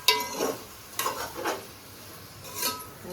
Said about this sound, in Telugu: చక్కగా ఇలా నూనెలో వేయించుకున్నాం